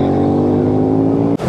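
A car engine pulls strongly in second gear on a climb up an Alpine mountain pass, a steady loud drone with a rising tone that cuts off abruptly near the end.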